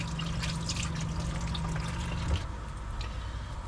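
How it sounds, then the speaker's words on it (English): A kitchen tap runs steadily for handwashing, a continuous close splashing stream with a soft hum that shifts as the flow changes partway through, with no voices over it. "I'm going to attempt to wash my hands first and foremost."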